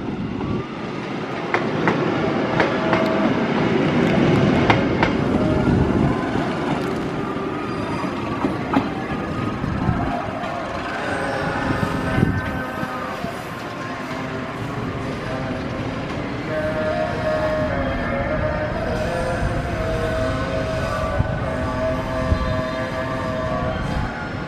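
The Argo Cirebon passenger train, running from Jakarta Gambir to Tegal, passes straight through a station on track 3 with a loud, continuous rumble and rhythmic wheel clatter, faint squeals rising as the carriages roll by.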